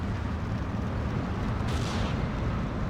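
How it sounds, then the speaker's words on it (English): Artillery rounds, 220 of them, land in Steel Division 2 as a dense, rumbling barrage, a continuous heavy roar with a brighter burst of blast noise midway, loud and sustained with no talk. "So we're going to drop these 220 rounds on this area where we know the airborne infantry is. We'll see this big explosion here in a second."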